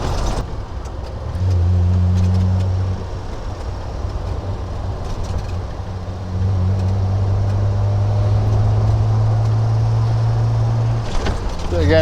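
An old car driving along a country road in Suffolk, a steady engine drone with low humming tones that drop and return, loud and close throughout.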